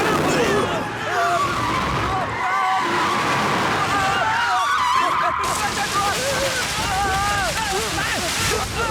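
A car reversing and swinging into a quick U-turn in an action film, loud tyre screeching in repeated wavering squeals over engine roar, with voices and dramatic sound effects mixed in throughout.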